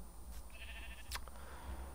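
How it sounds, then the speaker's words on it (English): A single short sheep bleat from a video game plays faintly over a steady background hum, with a brief click shortly after. "That's a sheep."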